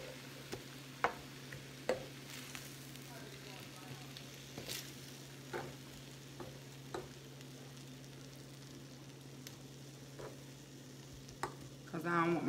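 Pork chops sizzle on a grill with a soft steady crackle, broken by a scatter of sharp ticks and clicks as they are turned, and a brief louder scrape near the end.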